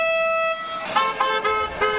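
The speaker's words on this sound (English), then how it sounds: "A honk for Lainey Hudson." Car horn honking: one long held toot, then three short honks in an uneven rhythm, loud and close with no talk.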